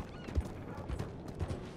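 Horse hooves clip-clop at an easy pace while riding in Red Dead Redemption 2, a few soft, low thuds spaced irregularly, faint and without speech.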